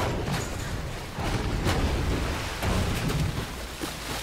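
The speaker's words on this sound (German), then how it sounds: "Oh oh. Es regnet." Steady rain pours in GTA V, a dense, even hiss of falling drops that fills the scene at constant volume from start to finish, with no voices over it.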